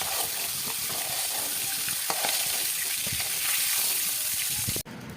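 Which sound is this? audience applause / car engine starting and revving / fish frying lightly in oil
fish frying lightly in oil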